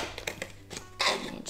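Scissors snip through a paper seam, cutting about an inch down for a kids' rainbow weaving craft: a few light, scattered crisp cuts followed by a brief louder rustle of paper near the end.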